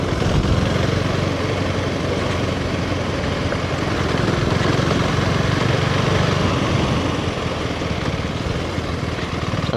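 A 390 motorcycle engine runs steadily for the whole stretch, heard as a continuous, broad mechanical drone mixed with rushing wind at a moderate, unchanging level.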